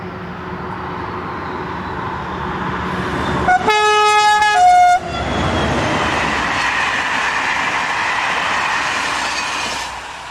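Class 72000 diesel locomotive 72025 hauling a passenger train near Ambois, France, rumbling steadily close by, with a loud multi-tone horn blast of about a second and a half partway through.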